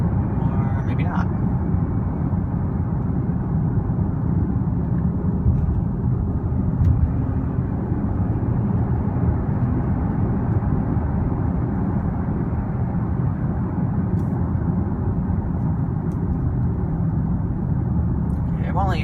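A 2016 Audi Q5 3.0 TDI driven in sport mode, heard from inside the cabin as a constant, loud, low engine and road drone that holds steady throughout.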